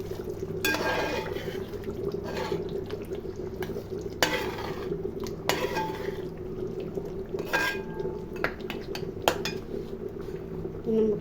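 Metal spoon scraping and clinking against a pot while pork curry is stirred, with a steady low simmer underneath and a few sharper clanks spread through; no talking.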